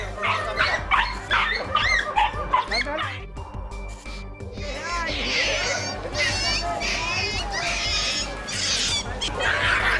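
Several stray dogs bark, yip and whimper excitedly nearby at a resettlement area in Marikina while people talk over the commotion.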